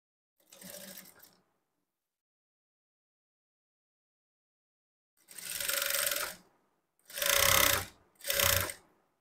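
Short separate bursts of a sewing machine stitch along the edge of a lined blouse, one brief run followed by silence and then three louder runs close together near the end.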